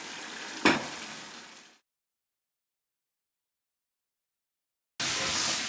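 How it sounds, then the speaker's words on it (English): Moi moi ingredients frying in a pan with salt and all-purpose seasoning, a close crackling sizzle with a brief stir clatter, fading out, then a silent stretch before the sizzle returns at full strength. "Some salt. All purpose seasoning. Allow to fry."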